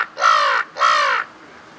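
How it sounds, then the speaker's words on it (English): A crow gives two loud, clear caws in quick succession, each harsh and drawn out, close by with a quiet outdoor background. "That's more of the, you know, the crow. Uh-huh. That's a crow."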